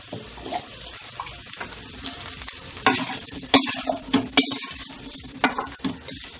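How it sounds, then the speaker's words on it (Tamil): Aval sundal, a flattened-rice snack, being stirred in a pan: irregular scraping and clinking strokes of a spoon against metal, some sharp and loud, over a soft background sizzle. "இதை நல்லா மிக்ஸ் பண்ணி விட்டுருங்க."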